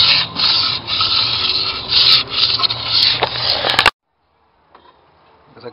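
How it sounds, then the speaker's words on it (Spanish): Steady abrasive sanding of VW Pointer engine cylinder liners, a coarse rubbing scrape that runs for about four seconds, then cuts off abruptly into near silence with a faint clink. "Aquí ya tenemos nuestras camisas lijadas."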